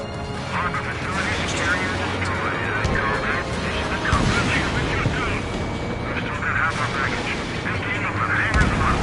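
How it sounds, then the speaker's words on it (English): A bomber aircraft struck by a missile in an aerial combat video game, heard as a dense roaring explosion and engine rumble that runs for the whole stretch with bursts and crashes. Voices talk over it at times. "Bomber hit by a missile."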